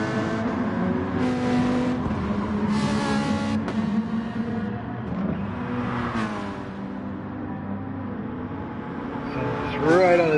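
A race car engine in Gran Turismo Sport revs and shifts through gears during a multi-car race, its tone rising and falling, with a sharper acceleration burst near the end, under steady commentary.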